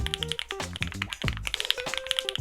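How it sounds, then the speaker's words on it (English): Typing on a computer keyboard, a quick run of crisp close key taps with short pauses, mixed with a few faint soft tones in the background. "typing in what I want the workflow to achieve"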